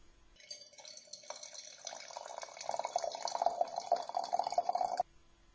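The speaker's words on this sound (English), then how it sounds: "And now you pour the tea into the cups." Tea poured from a pot through a tea strainer into cups at an English teatime, a steady liquid splash that grows fuller and louder over about five seconds, then stops abruptly.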